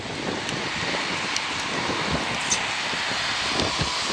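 Steady wind and rain buffeting a JVC camcorder outdoors in bad weather, a continuous loud roar of wind noise and rain hiss with no talk.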